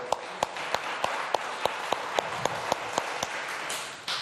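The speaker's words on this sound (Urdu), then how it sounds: "ایک مرتبہ پھر بہت ساری تالیاں" Studio audience clapping during a Ramadan iftar television show, a steady rhythmic beat of claps over a broad wash of noise that fades near the end, with no voices.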